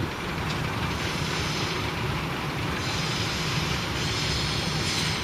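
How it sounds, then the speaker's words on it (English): A small single-car railcar, a bubble-car style coach, rumbles past close by as a steady, loud, continuous roar of wheels on track, with no talking over it. "And there's a little bay train."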